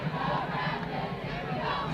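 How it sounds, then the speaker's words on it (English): A high school football crowd roars steadily for the defense on a crucial fourth down, a dense, continuous wash of distant cheering and shouting with no break. "The crowd, sensing the importance of this play, starts to,"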